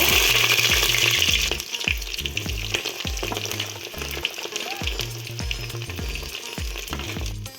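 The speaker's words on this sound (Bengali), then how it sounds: "এবার পেঁয়াজগুলো আমি গরম তেলে দিয়ে দেব।" Four medium chopped onions hit hot oil for a Bengali handi chicken curry, giving a loud, close, steady sizzle with repeated scraping stirs in a regular rhythm throughout.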